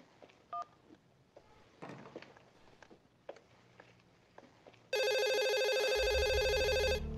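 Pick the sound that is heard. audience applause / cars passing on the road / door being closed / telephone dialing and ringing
telephone dialing and ringing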